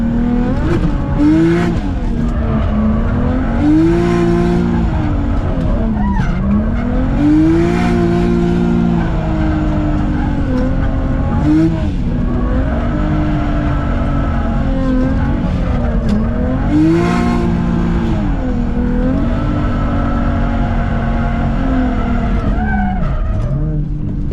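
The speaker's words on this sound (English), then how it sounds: "let's do this parade lap and get to drifting" A 500hp single-turbo BMW E90 N54 drift car on a track roars loudly and steadily, its engine rising and falling in repeated revving swells, with tire squeal mixed through and no talk.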